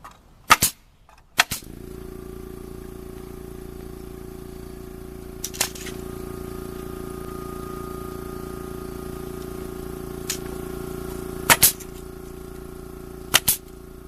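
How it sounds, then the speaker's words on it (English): A pneumatic nail gun tacking pallet boards, driven by a Makita MAC 700 air compressor whose steady drone runs throughout, punctuated by several sharp, separate nail shots. "There's our trusty Makita MAC 700 air compressor we're using to drive this nail gun today."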